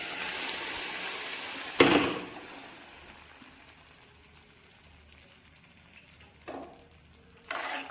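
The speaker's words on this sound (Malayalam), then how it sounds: "റെഡിയാക്കി വെച്ചിരിക്കുന്ന പരിപ്പ് നമുക്ക് ഇതിലോട്ട് അങ്ങ് ഒഴിച്ചു കൊടുക്കും" Cooked dal is poured into a hot pan for a curry with small onions, giving a loud sizzle and bubbling that fades to a gentle simmer, with a few short bursts of sizzling later and no talking.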